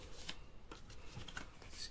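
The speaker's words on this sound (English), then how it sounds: "Doing a quick shuffle of all of the cards." A deck of tarot cards being given a quick shuffle, soft close riffling and flicking bursts repeating over about two seconds, faint and alone.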